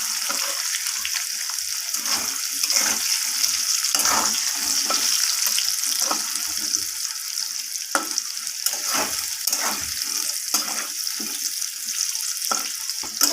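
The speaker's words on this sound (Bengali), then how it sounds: "আলুটাকে এইভাবে লাল লাল করে ভেজে নিচ্ছি" Potatoes tossed with salt and turmeric, frying in oil in a pan: a continuous bright sizzle close by, broken by repeated knocks and scrapes of a spatula stirring throughout, with no talk.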